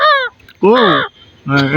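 A pet parrot named Mitu imitates a crow with three loud, harsh, nasal caws, closely spaced and up close.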